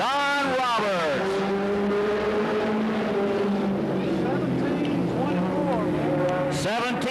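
Race car in the Goody's Dash series lapping the Anderson, South Carolina speedway during 1988 Winston 100 qualifying, a loud sustained engine drone with pass-by pitch sweeps at start and end, under a public-address announcer talking.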